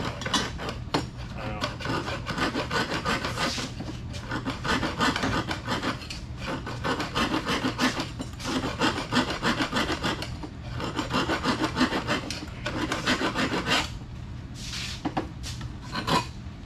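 A hacksaw cuts through a steel exhaust pipe during an exhaust install on a 1972 Dodge Challenger, with steady, even back-and-forth rasping strokes close by that run without pause for over a dozen seconds, unaccompanied by speech.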